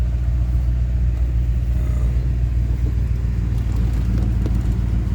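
A car engine idles with a deep, steady low rumble, close and even, with no talk over it.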